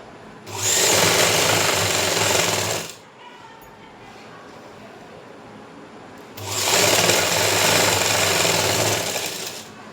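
A sewing machine stitches pant fabric in two loud, steady whirring runs of about two and a half and three and a half seconds, separated by a quiet pause.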